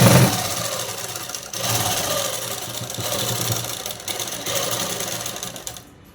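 A sewing machine runs in steady bursts while stitching a folded-over cloth edge on a child's langa blouse, with short pauses between the runs and no talking.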